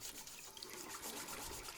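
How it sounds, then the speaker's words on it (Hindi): Water running from a tap over dishes being washed in a sink, a cartoon-style sound effect of a steady splashing stream that carries on throughout, quiet and without speech. "फिर से ढेर सारे बर्तन गंदे हो जाते हैं और उसे बर्तन धोने पड़ते हैं"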